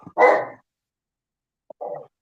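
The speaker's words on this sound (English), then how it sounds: "he barks at every single thing he hears" Old blind dog with dementia, barking indoors: two short, fairly loud barks separated by a pause of over a second, no talk over them.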